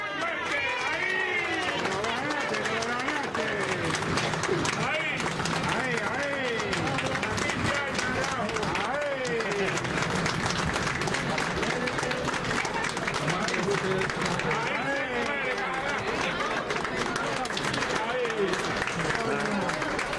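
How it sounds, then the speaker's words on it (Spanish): A packed house at a Miami event for Cuban activist Berta Soler breaks into sustained applause with cheering and shouts, a dense, loud crowd roar running throughout with voices calling out over the clapping. "fue recibida con aplausos y gritos de apoyo por parte de una casa llena"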